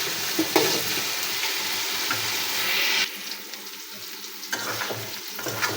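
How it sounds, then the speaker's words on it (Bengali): Onion, chili, bay leaf and cardamom frying in oil in a home kitchen pot for biryani, a steady close sizzle with stirring scrapes that drops quieter midway, then flares again. "তেজপাতা এলাচ সবগুলো তেলে একটু ভেজে নিচ্ছি"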